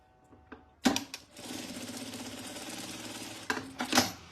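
A sewing machine stitches a fabric wallet in one steady whirring run of about two seconds, with clicks and handling knocks before and after it, close up and without speech.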